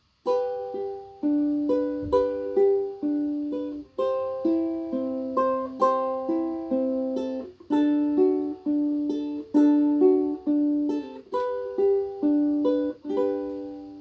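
A ukulele is played fingerstyle, plucked notes ringing out in a repeating pattern as the chords change, clear and close with no talking.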